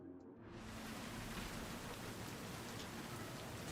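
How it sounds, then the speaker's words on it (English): Rain in the video game Cyberpunk 2077 swells in after a short quiet moment, then settles into a dense, steady hiss of falling drops that fills the scene with no voices. "And now it's raining."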